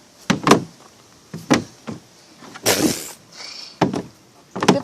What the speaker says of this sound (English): Let's close your other door correctly.